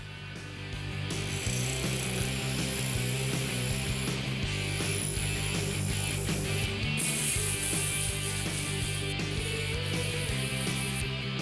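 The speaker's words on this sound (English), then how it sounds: "I started sanding with 120" Steady mechanical whirring of a spinning lathe with a scratchy, rasping texture of 120 to 220 grit sandpaper against turning wood, continuous and close.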